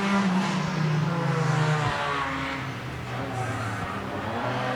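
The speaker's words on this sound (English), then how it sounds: "We are green flag racing here" Race cars roaring together at a green-flag start on a short track, a loud droning engine blend with pitch shifts as they accelerate away, heard from a distance with no breaks.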